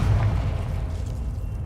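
A Confringo spell explosion in Hogwarts Legacy, a deep booming blast that rumbles briefly and fades, loud and close.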